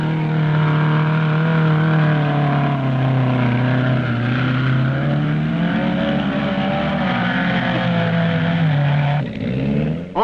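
Small 1100cc trial special cars, mostly Cannon specials, grinding up a muddy hill at the 1965 RAC Trials Championship, with a loud, steady engine drone that rises and falls in pitch before dipping near the end, no talk.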